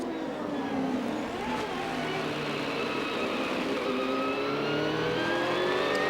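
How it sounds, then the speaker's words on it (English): A CART Indy-style race car engine at the 1995 Long Beach street race, heard from an onboard camera on the cowling behind the pop-off valve: a loud, steady high-pitched roar with rising and falling revs throughout. "On board Robbie Gordon's car, the camera mounted back on the cowling behind the pop-off valve"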